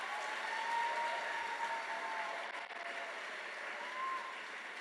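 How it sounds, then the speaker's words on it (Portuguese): Church congregation applauding together, a steady broad wash of clapping from a crowd that holds evenly throughout without any voices coming through. "Pode aplaudir."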